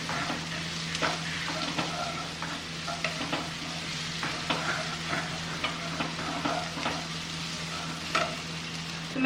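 Sliced onions fry with ginger garlic paste in a pan, a dense continuous sizzle broken by scraping stirs of the spoon, close and fairly loud with no talking.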